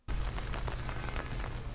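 Steady rain pours down throughout on a late afternoon, a dense broadband wash of drops close and even, with no talk over it.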